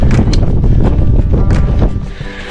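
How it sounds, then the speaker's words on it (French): Loud, gusty mountain wind on the Grand Brézouard in the Vosges buffets the microphone in a constant roar, with rumbling low-end bursts and no voices. "T'as vu le vent qu'il y a? C'est dinguerie."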